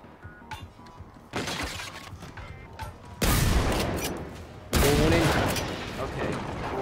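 Video game gunfire: a burst of bursts and shots, with two very loud, broad booming blasts standing out from the game noise.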